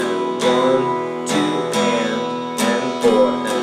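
Slow acoustic guitar strumming of a song, played as a beginner lefty part: ringing chords struck in an even, unhurried pattern, with each strum clear and close and no talking.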